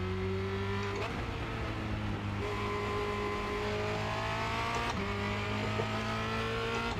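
A Formula Renault 2.0 race car laps the Charlotte Motor Speedway Roval, its engine note climbing through the gears in rising sweeps, dropping sharply at each upshift, close and loud from onboard with faint tire noise.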